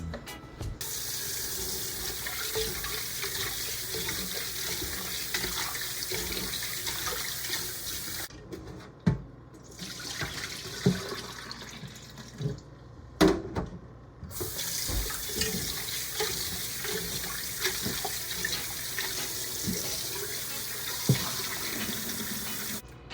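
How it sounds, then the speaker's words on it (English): Tap water runs steadily into a kitchen sink while raw meat is washed for a Samoan cooking session, a continuous close splashing stream broken midway by a brief lull with clinks and handling sounds. "I'm going over to the sink to wash my meat"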